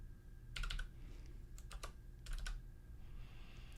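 Typing on a computer keyboard while setting up a ProPresenter scoreboard template: short bursts of crisp key clicks in three clusters, close and fairly quiet, with no talking.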